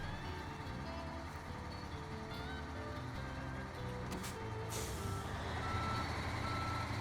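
A truck in the video game SnowRunner reverses with a steady, repeating electronic beep. A constant loud engine drone runs underneath, and a brief hiss like an air brake cuts in partway through.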